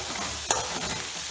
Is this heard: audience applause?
no